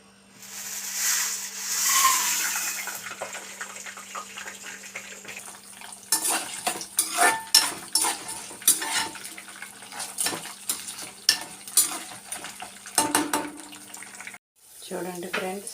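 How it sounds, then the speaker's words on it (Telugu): Mustard seeds fry in hot oil for tamarind rice, making a steady crackling sizzle with sharp pops and spits throughout, while a person talks over the cooking. "ఒక స్పూన్ అయితే ఆవాలు అయితే ఫ్రై చేసుకుంటున్నానండి, ఎందుకంటే పులిహోరలో అయితే టేస్ట్గా ఉంటుందండి"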